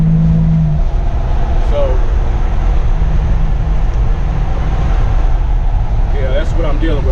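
A turbocharged Buick Grand National on a quick test pass, its engine droning steadily and loudly throughout with a low rumble, while someone talks over it.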